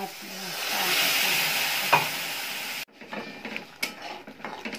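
Masala for a rajma and green pea curry fries and sizzles in a pan as it is stirred. A steady close hiss gives way to scraping, clattering stirs over a quieter crackle.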